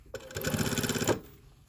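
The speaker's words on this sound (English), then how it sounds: "I'm stitching past it, but not stitching it closed" A sewing machine stitches a shirt cuff in one short, fast burst of rapid even needle strokes, close and fairly loud, then stops abruptly.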